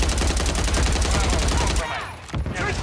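Rapid turret gunfire in a shooting video game, a dense continuous burst of shots that breaks off near the end, followed by a few scattered shots and a speaking voice.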